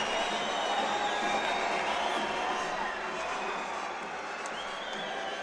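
Home crowd in an Armenian arena applauding and cheering their heavyweight (81kg) boxer between rounds of a final bout, a steady, dense wash of crowd noise holding at an even level throughout.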